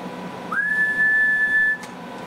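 Someone whistles one steady, sustained note into the microphone of a Ranger RCI 99N2 SSB CB radio that is keyed up on its carrier, heard close and clear over a faint background hiss.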